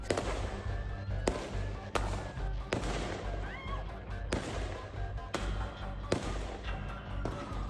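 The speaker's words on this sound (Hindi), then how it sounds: "लेकिन तभी अचानक से बॉन्डी बीच पर गोलियों की तड़तड़ाहट शुरू हो गई।" Gunshots ring out during a shooting at Bondi Beach: about eight sharp, loud cracks come at irregular intervals of roughly a second over a continuous crowd and ambient rumble.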